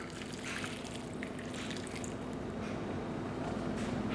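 Water is poured over a crumbled 1969 vintage MRE food bar, a steady close trickle and wet splashing that runs without a break.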